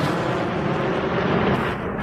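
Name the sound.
BM-21 rocket launcher firing rockets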